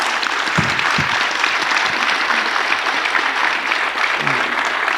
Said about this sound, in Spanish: Pues un aplauso a nuestros panelistas.